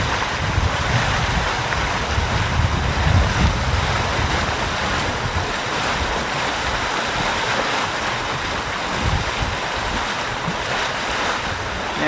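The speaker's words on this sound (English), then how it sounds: "This is the mud volcano." Hot water at 189.5°F churning in Yellowstone's Mud Volcano, a loud, steady broadband rush like surf, blended with gusting wind noise on the microphone throughout, with no voices.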